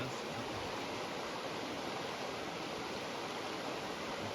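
Creek water rushes steadily over rocks in a continuous broadband wash, soft and even throughout with no voices or other sounds.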